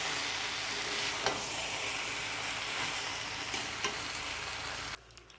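Meat being sautéed with fried potatoes in a pan, a continuous fairly quiet sizzle with occasional spatula scrapes, cutting off abruptly near the end.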